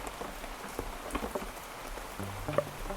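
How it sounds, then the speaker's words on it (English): Steady rainfall pattering on a surface outdoors, a soft continuous patter with scattered distinct drop hits, fairly faint and without voices. "It rained today"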